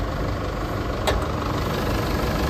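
A 2.8-litre turbo diesel engine in a 4x4 Trailblazer automatic idles with the engine bay open, giving a steady, close, even rumble throughout with one brief click midway.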